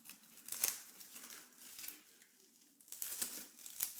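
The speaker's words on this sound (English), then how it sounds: "So I'm just cutting it here with a utility knife" A utility knife slices through a cucumber, giving short, crisp crunching cuts: one near the start, then a quieter gap, then a cluster of closer, sharper cuts toward the end. No one speaks.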